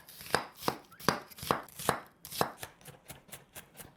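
An onion being chopped with a knife on a cutting board, about a dozen crisp close knocks in an even rhythm that speeds up slightly toward the end.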